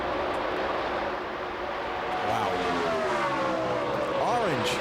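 NASCAR stock cars roar past during the 2003 Brickyard 400 at Indianapolis Motor Speedway, a steady loud engine drone with rising and falling pitch sweeps as cars pass, under a brief exclaimed voice.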